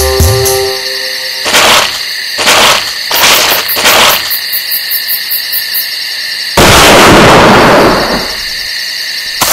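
Hunting rifle in Hunting Unlimited 2009, fired at an elk: a few sharp, loud cracks in quick succession, then a bigger, longer blast, over outdoor ambience with birdlike chirps and no speech.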